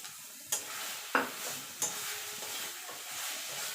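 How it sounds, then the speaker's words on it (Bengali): Banana stem paste with raw mustard oil is stirred in a kadai, a few sharp spatula scrapes and knocks over a soft ongoing sizzle, close and clear. "এবার ভালো করে নেড়ে নেবো কারণ কড়ার থেকে ছেড়ে আসতে"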